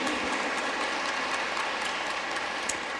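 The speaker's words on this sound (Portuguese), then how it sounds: "Uma salva de palmas para ele" Congregation applause during a Catholic Mass welcoming a guest: a continuous, even wash of many hands clapping, fairly loud and dense, with no talk over it.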